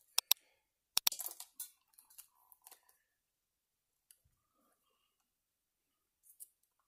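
Weed whip trimmer line being cut, heard as a few sharp snips and clicks, a cluster of crisp cuts early then scattered faint taps, close in an otherwise quiet room.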